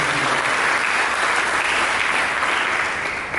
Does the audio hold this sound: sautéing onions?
no